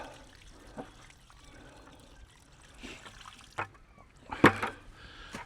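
Water soaked with mulch poured back into a container outdoors in a garden, a faint trickle and dribble that ends in a brief louder splash near the close.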